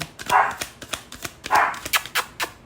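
A dog barks repeatedly indoors, loud and near, in quick sharp yaps mixed with rapid clicking and tapping sounds, no speech.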